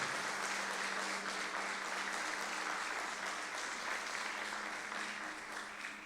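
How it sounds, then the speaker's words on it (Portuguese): A church congregation claps together in a sustained, even wash of applause, heard from a little distance and fading slightly toward the end. "Então aplauda ao Senhor"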